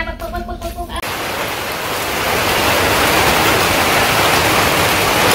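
Rain falls in a Bangladeshi village. After a short tonal sound at the start, a dense, steady hiss of rainfall takes over and gradually grows fuller and louder.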